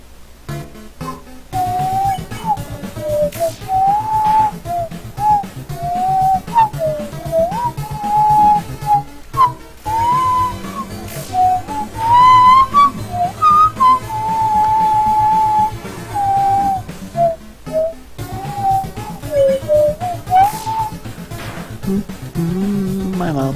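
A person whistles a tune at close range, a wandering melody of clear sustained tones with short pauses between phrases, heard on its own without talk.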